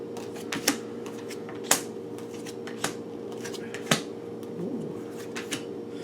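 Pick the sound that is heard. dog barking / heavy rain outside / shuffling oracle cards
shuffling oracle cards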